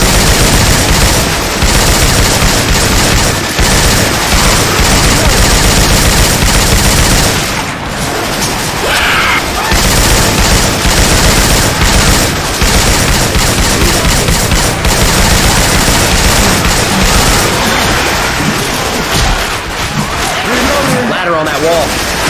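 Syphon Filter weapon sound effects swapped into the video game Left 4 Dead 2, loud continuous automatic gunfire and booms that barely let up, with character voices shouting over the shooting.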